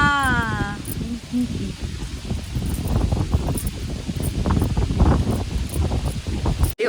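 Strong wind roars steadily into an outdoor microphone, with broadband buffeting and rustling gusts throughout; a voice speaks briefly at the very start under the gusts.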